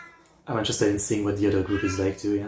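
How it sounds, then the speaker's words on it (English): A cat meows during a music reaction livestream, its voice rising over someone talking steadily at close range. "Sorry about the cat."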